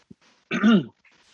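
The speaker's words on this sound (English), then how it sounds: "I apologize for coughing." A single short, rough cough, close and fairly loud, with faint breathing sounds around it.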